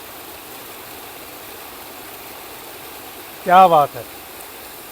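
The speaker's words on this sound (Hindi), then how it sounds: "तो देखिए कहाँ से आ रहा है झरना ऊपर से," A mountain waterfall pours down from above, a steady broadband rush of water running evenly through the whole stretch, with a man's short remark heard briefly near the end.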